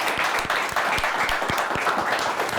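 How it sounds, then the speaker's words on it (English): Audience applause for the Ludington team after its quiz game win, a dense, steady burst of many hands clapping close by, lasting the whole moment with no voices over it. "A nice round of applause for Ludington."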